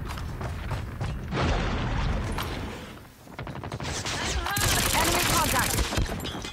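CX-9 submachine gun firing in a video game, rapid dense bursts of automatic fire that pause briefly midway and then resume louder and close, with no talk over it.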